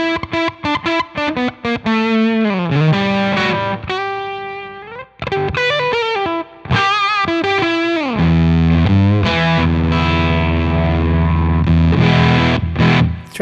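An electric guitar through a GGG TOCT Octavia clone fuzz pedal, loud buzzing distorted notes and bends with choppy, gated decays between phrases, played close with no talking.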